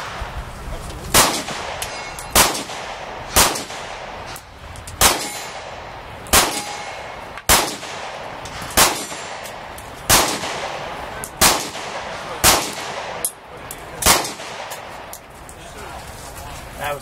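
Palmetto State Armory 5.7 Rock pistol fired in a steady series of about eleven sharp, loud shots roughly one second apart at an outdoor media-day range, each ringing briefly.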